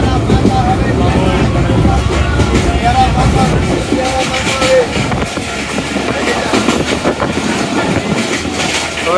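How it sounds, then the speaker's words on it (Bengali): Steady, loud rumble of a train running on rails, heard from inside a carriage, with dense low roar and rattling filling the whole span and no talk over it. "জানি না কথাগুলো শোনা যাচ্ছে না ট্রেনের আওয়াজের কারণে"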